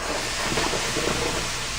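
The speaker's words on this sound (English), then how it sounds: "get a good sizzle." Zucchini, mushrooms, green beans and peppers sizzle in a hot pan as a steady, dense hiss that holds evenly throughout, with no talking.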